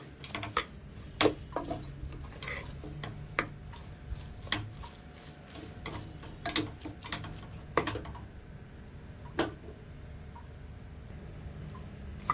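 Sweet purnam filling stirred with ghee in a pan, irregular clinks and scrapes of a utensil against metal over a soft background, fairly quiet and close.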